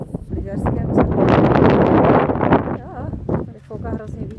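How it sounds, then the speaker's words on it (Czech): Strong wind gusting across a shallow lake at a ski resort in Ukraine, a loud, continuous roar of buffeting that rises and falls, with faint voice-like sounds mixed into the noise. "Tady fouká hrozně vítr."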